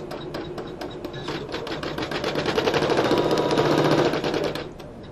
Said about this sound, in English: we're going to unlock the machine and we're going to go ahead and we're going to be cutting with our blue cutting blade